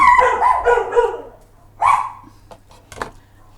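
Dogs bark in a quick flurry of several yaps and yips, then two more separate barks follow after a pause. The barking is fairly close and loud in an indoor home setting, with no talking over it.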